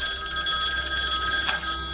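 An electronic telephone ringing indoors, a steady tonal warble with bright harmonic bands held through the whole two seconds, no voices over it.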